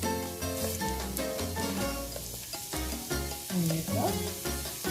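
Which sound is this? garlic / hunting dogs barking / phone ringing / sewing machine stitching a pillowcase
garlic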